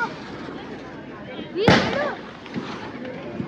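A butterfly firecracker goes off at a Diwali night celebration with one sharp, loud burst and a brief whistling spin, over steady background noise and voices.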